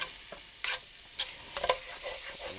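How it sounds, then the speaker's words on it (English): Sour cream stirred around in a hot pan for a quick stroganoff, a low sizzle broken by a few sharp scrapes and clinks of the utensil against the pan, close up with no voices. "Half a cup of sour cream will do us. And we'll stir it around."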